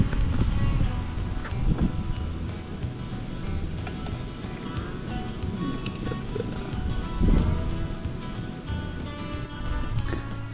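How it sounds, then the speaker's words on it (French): Strong wind blows outdoors and buffets the microphone with a low, uneven roar. It swells in gusts and eases again, with no voices heard. "Puis il y a beaucoup de vent."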